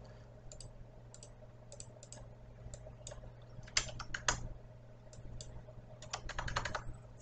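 Quiet, close computer input clicks, tagged as keyboard typing rather than mouse clicks, come in short irregular clusters over a steady low hum while working in GraphPad Prism software.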